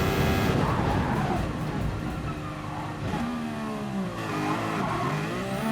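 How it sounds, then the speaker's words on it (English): A Mercedes W08 Formula 1 car decelerates into a corner, its engine note dropping and burbling loudly and close, with shifting tones and a whining hybrid hum as it slows, no voices present. "Now we're going to jump across to the Mercedes W08, have a listen to exactly the same corner and the same deceleration zone."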